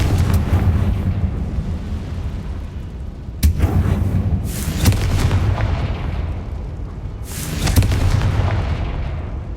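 Confringo blasting spells exploding in Hogwarts Legacy: several loud, booming blasts with crackling, rumbling tails, spaced a few seconds apart and heard alone.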